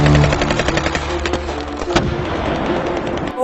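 A quick burst of sharp cartoon gunshots pops in a rapid, crackling series, loud and close, with no voices.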